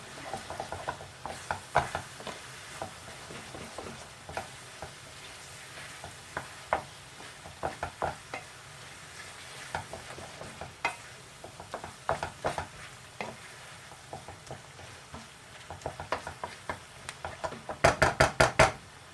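A spoon stirs a heaped teaspoon of Naga pickle into a simmering chicken pathia curry, with soft scraping and gentle sizzling under scattered taps against the pan, a quick cluster of knocks near the end.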